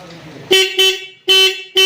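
An electric rickshaw horn being tested after rewiring sounds in four loud, close toots, two short and two longer, with brief gaps between them.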